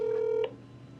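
A single steady telephone keypad tone sounds for about half a second while a number is dialed in a doctor's office, then cuts off to a quiet background hum.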